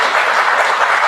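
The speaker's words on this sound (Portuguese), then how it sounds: "Jorge, uma salva de palmas para ele, por favor." An audience at a software testing conference claps for a speaker, a dense, loud and steady burst of applause with no talking over it.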